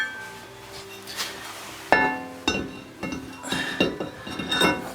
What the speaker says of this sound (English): Alright, now we'll set our rotor on.